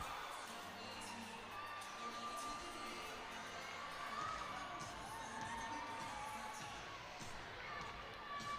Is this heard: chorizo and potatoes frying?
no